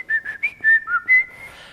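A person whistles a short, quick melody of about six clear notes in a theater dressing room, close and bright with brief gaps between phrases.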